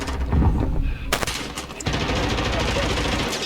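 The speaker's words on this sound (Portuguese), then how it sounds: "Eu tô dando tiro no cara achando que era meu inimigo." Rapid bursts of Call of Duty gunfire rattle loudly, an automatic weapon firing in long strings with a brief pause between volleys.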